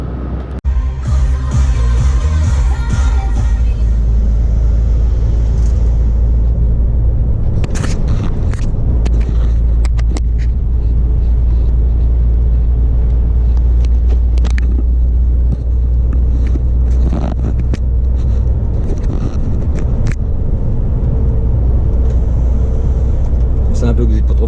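A refrigerated truck drives at night, heard from inside the cab as a loud, constant low engine drone and road rumble, with occasional knocks and rattles and a voice now and then.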